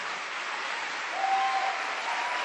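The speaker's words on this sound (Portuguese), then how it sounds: "Se esse aplauso foi para mim, tá bom, mas para o Senhor não tá." Church congregation applauding during a sermon, a steady diffuse wash of clapping heard alone at moderate level throughout.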